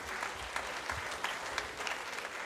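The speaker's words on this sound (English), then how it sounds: "can we give God a round of applause?" An audience at a Nigerian comedy show gives a sustained round of applause, dense and fairly loud clapping that carries on steadily throughout with crowd noise mixed in.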